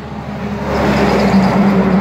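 A 2011 Kenworth W900 truck passes eastbound on a road in Blue Lake, California; loud, close engine drone and rumbling tires build and hold steady across the short stretch, with no voices.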